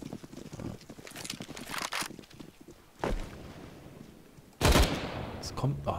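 Gunfire in the video game CS:GO, with scattered shots and two louder bursts amid footsteps and game ambience, while a player talks over it.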